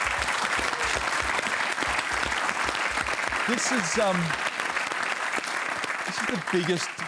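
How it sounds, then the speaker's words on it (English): Live studio audience clapping in a broadcast hall, dense sustained applause filling the whole stretch, with some voices and faint whoops mixed in. "Give yourselves a clap."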